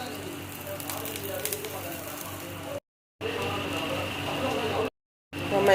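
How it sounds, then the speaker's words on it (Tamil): Sliced onions and stripped drumstick leaves sautéing in a pan for an egg stir-fry, a steady close crackle and sizzle that cuts out briefly twice. "இந்த ஸ்டேஜில் உருவி வச்சுருக்கிற முருங்கைக்கீரையை போட்டு அதையும் வதக்கி எடுக்கலாம்"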